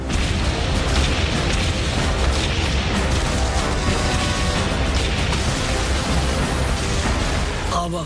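Dense, continuous booming of artillery fire and explosions from the Battle of Kursk, loud and unbroken throughout with overlapping blasts and crackling bursts, no pauses between them.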